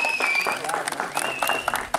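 A crowd at an outdoor football tournament applauds, a scattered patter of clapping under a voice speaking over the noise, fairly distant and moderate in level.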